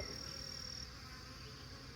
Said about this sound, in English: these bees are just like, what are you doing, Kamon?